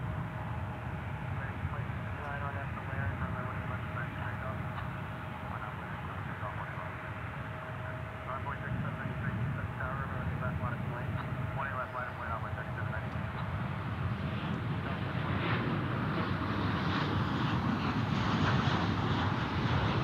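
An airliner takes off from runway 18 left at DFW airport, its engine roar building steadily and loudly over twenty seconds, with wind noise across the microphone and radio voices talking over it.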